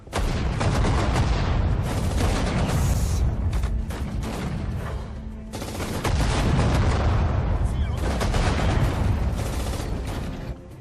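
Frag grenade blasts and rattling gunfire from a Sudden Strike 4 battle at Tobruk, dense and loud, with overlapping booms and bursts that continue almost without pause.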